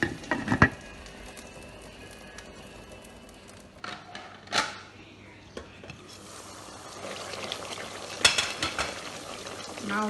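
Onions and tomato paste fry for a beef stew, a low steady sizzle broken by sharp clacks and scrapes of a spoon stirring against the pot.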